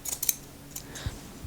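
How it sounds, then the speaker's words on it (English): Scissors trimming the fabric lining of a sewn dress, a quick run of crisp snips close up followed by a few quieter cuts. "I'm going to go ahead and actually trim some of this."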